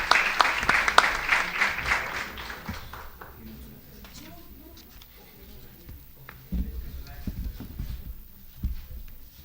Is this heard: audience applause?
yes